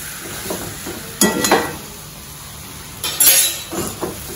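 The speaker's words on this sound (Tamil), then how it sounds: "இப்போ நான் ஹை ஃப்ளேமில் வச்சுட்டேன். மேக்ஸிமம் ஒரு 10-20 செகண்ட் தான் இதில் கிளறுவேன்." Yam chops frying with curry leaves in a pan over high flame, stirred in two short bursts of sizzling scrapes and clinks against a steady background hiss.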